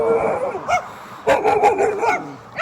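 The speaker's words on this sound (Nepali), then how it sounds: "यहाँको कुकुरहरू चाहिँ यस्तै हो क्या, लास्टै भुक्दिन्छ कि" Dogs bark in short repeated bursts outdoors in a Polish village, several yips and barks clustered together at moderate distance, mixed with nearby talking.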